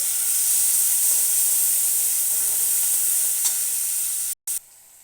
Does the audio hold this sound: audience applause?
no